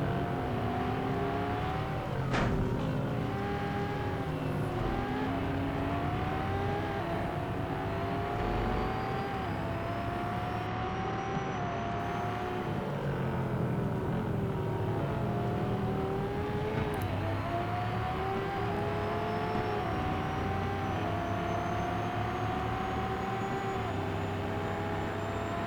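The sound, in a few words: racing cars' engines in a video game race, Lamborghini Asterion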